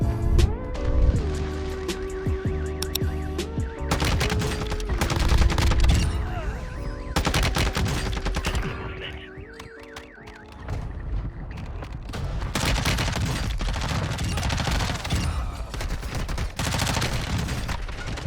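ISO Hemlock rifle gunfire in a Call of Duty multiplayer match, with rapid automatic bursts and dense firefight noise under game music and effects, loud and close, broken by short lulls.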